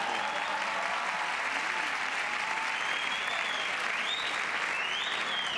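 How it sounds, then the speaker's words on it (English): Audience at the Aspen Disruption Summit applauding steadily, a dense, even clapping at constant volume for several seconds with no talk over it. "the government officials not applauding very forcefully"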